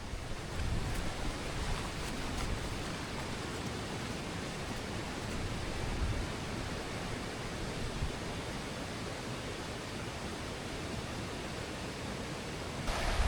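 A swollen river rushing after heavy rain on an upland Yorkshire Dales walk, a steady broadband roar of fast water, continuous and fairly distant, with no voices.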